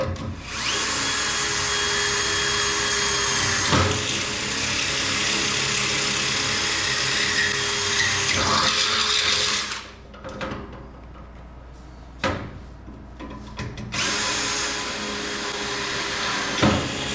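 A power drill bores into a beach cart frame, a loud continuous whine for about ten seconds, then stops and restarts in two shorter bursts with quieter gaps between.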